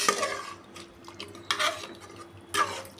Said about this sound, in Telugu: నీటిలో మొత్తం అంతా చికెన్ మసాలాలన్నీ కలిసేటట్టు తిప్పి